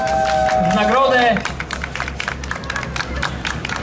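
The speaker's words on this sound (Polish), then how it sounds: "Duże, duże brawa." Applause for the podium finishers of the 2023 Rajd Śląska rally, crew Prus and Baćkowska in a Mitsubishi Lancer: a voice speaks at first, then a steady patter of clapping from a small crowd carries on to the end.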